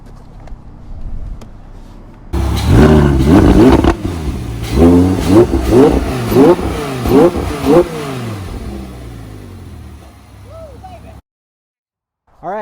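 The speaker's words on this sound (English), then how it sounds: "I'm actually going to go rev it for you to show the exhaust a little bit." An Audi R8 V10 engine roars to life and revs hard several times, loud and close, with sharp throttle blips through the exhaust before settling and cutting off.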